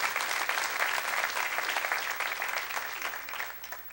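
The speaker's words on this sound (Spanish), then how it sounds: "¿Cuántos le dan un fuerte aplauso?" A church congregation breaks into steady applause during a sermon, a dense, moderately distant wash of many hands clapping that tapers slightly toward the end, with a low hum underneath.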